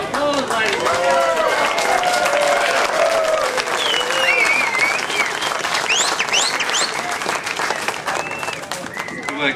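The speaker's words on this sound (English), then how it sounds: "Give them all a round of applause" A crowd applauds steadily at a football awards night for the Mulgrave Lions team, with bright whistles and cheers rising over the continuous clapping throughout.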